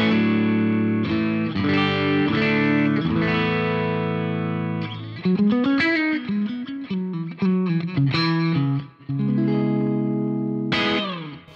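An electric guitar played through a 2-Rock tube amp with a mostly clean tone and slight breakup, sustained chords followed by quicker melodic runs, steady and close.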